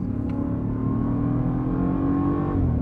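A Land Rover Defender V8 engine revs hard and steadily for about three seconds, a close, loud, continuous growl that holds and climbs slightly before easing off at the end.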